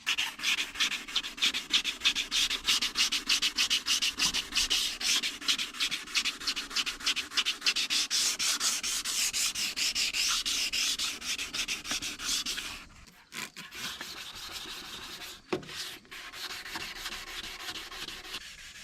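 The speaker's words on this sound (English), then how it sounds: "So we're just gonna keep sanding until it's all flat." Rapid rhythmic scratching of sandpaper rubbing back and forth on painted metal by hand, close and brisk, slowing to sparse strokes and pauses near the end.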